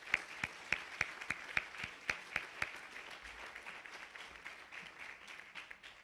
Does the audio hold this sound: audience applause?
yes